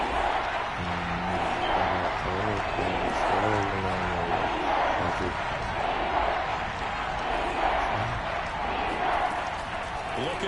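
Steady crowd roar at a Philadelphia Eagles football game, a dense, continuous stadium din with scattered cheers rising and falling, heard at a distance under a commentator talking throughout.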